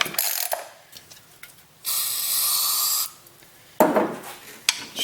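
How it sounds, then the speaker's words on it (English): An Echo 280E chainsaw gets a blast of carb cleaner: a steady hiss of spray lasts about a second, set between short mechanical clicks and rattles from handling the saw. "We're going to try one more time with the carb cleaner"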